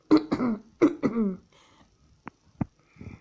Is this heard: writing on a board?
no